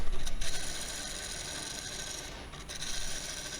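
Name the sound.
bowl gouge hollowing a red mallee burl bowl on lathe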